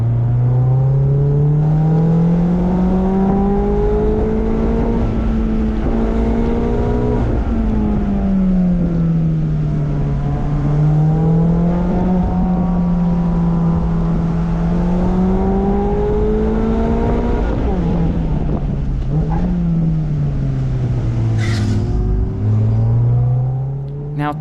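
A Mazda Miata is driven hard along the winding Tail of the Dragon road. Its engine note rises and falls continuously through the gears and bends, loud and close from inside the car, with no voices over it.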